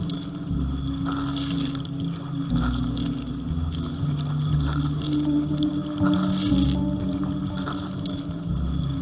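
A transparent dishwasher pumps water, giving a constant low churning hum with gurgling, liquid swirls and a few faint tonal whines, steady and close with no speech.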